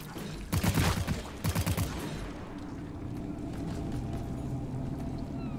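A gun fires two quick bursts of rapid shots in the video game Deep Rock Galactic, loud and close, followed by a quieter stretch of low rumbling game ambience.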